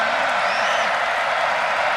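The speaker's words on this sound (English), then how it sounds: "credit to the Rutgers crowd here that are nice and loud for them" Loud college football stadium crowd at Rutgers during Ohio versus Rutgers, a steady broad roar of cheering and applause that stays dense and even throughout, with some voices faintly mixed in.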